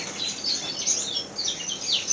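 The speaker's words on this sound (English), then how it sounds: "Various birds" Aviary finches and yellowhammers chirp and tweet steadily throughout, a busy overlapping chorus of high calls with no talking.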